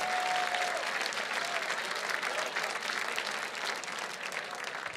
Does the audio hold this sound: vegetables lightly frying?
no